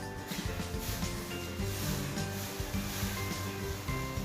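Salted egg chili paste being stir-fried in a pan until it thickens and dries: a constant dense scraping and rubbing of the spatula through the thick paste, with a low sizzle beneath.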